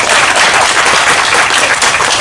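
A movie audio launch audience applauds in a dense, steady burst of clapping that fills the hall loudly and evenly throughout, with no voices standing out.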